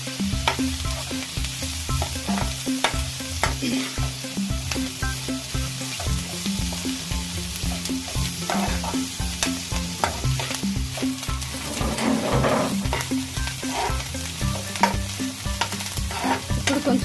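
Shredded cabbage fries in oil in a pan, a constant crackling sizzle with steady scraping of a spoon stirring through it, close and fairly loud, no voices.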